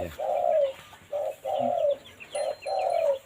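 A spotted dove coos in a repeated series of soft, hollow notes, fairly close and clear, with short pauses between phrases and faint chirps behind.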